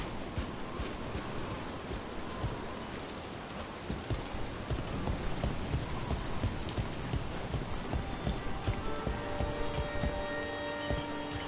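Steady rain pattering on surfaces with faint low thunder rumbles in Dragon Age: The Veilguard, a continuous dense hiss throughout with no talking.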